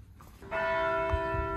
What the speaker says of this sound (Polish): Dzwony biją, więc musiałam nagrać.